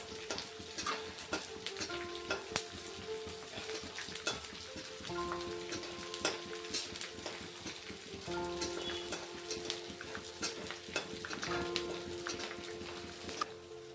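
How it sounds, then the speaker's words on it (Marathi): Edible gum (dink) fried bit by bit in hot ghee, a steady close sizzle and crackle with tonal hum lines running throughout, no talking. "मी त्याच्यामध्ये थोडा थोडा करून डिंक टाकून घेणार आहे आणि तळून घेणार आहे"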